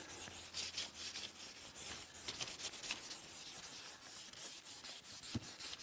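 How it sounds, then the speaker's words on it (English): Hand sanding of poly paste filler on a Corvette body with a 400-grit block, a steady scratchy rubbing that continues under faint background noise, with no talking. "sand it again. Make sure you do long strokes."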